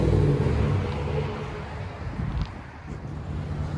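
Chevy Silverado 5.3L V8 fitted with Borla Touring exhaust, a low engine rumble easing off from a rev and settling into idle, with some wind noise.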